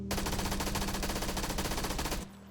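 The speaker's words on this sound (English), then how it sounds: "A new weapon is coming to PUBG, the MP5K, a submachine gun chambered for 9mm ammunition that only spawns on Vikendi" An MP5K submachine gun in PUBG fires a steady, rapid-fire burst of 9mm rounds for about two seconds, loud and close, then cuts off into a quiet tail.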